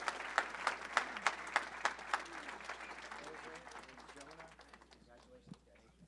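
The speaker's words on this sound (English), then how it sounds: "give a round of applause for these guys" An audience at a business mastermind awards event claps for quarterly award winners, a handful of sharp, regular hand claps up front over a soft crowd patter that fades out, with voices murmuring underneath.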